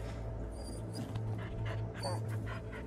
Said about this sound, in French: ça c'est manifestement un chien